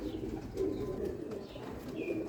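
A Teddy Golden pigeon, a breeding female, coos softly and repeatedly in a low, rounded murmur that carries on steadily and close by with no talking.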